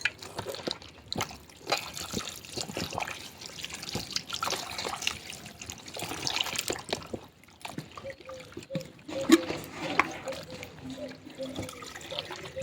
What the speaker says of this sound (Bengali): এটা জল দিয়ে দিয়ে আমি ততক্ষণ ধুবো যতক্ষণ এই সাদা জলটা থাকবে